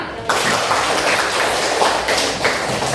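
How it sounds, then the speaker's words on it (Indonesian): A classroom of students claps hands together in a dense, lively burst of applause that carries on steadily from start to finish, close and moderately loud. "Tepuk tangan"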